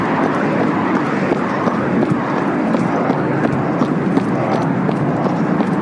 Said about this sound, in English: I can hear another plane coming in.